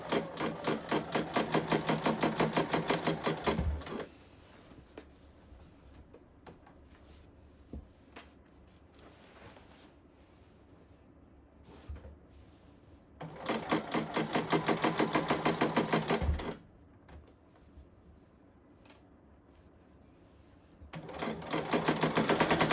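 A sewing machine stitches blazer lining seams in fabric, with three steady, rapid bursts of stitching separated by quiet pauses with small handling sounds, fairly close and moderately loud.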